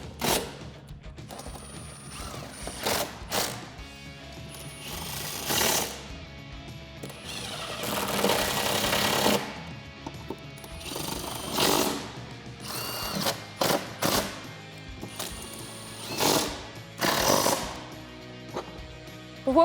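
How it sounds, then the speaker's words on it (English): A 13mm socket on a ratchet tightens the mount of a Teraflex HD adjustable spare tire carrier on a Jeep Wrangler JL, with repeated close ratcheting clicks and short bursts of mechanical rattling, coming and going in uneven bursts. "Now we can take a 13mm socket and tighten that up"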